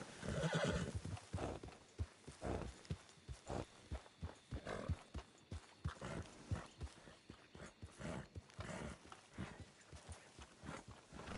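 Horse hooves clip-clop in a steady gait in Red Dead Online, with a loud whinny at the start and snorting and rustling among the hoofbeats, close and clear.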